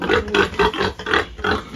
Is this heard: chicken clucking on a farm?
no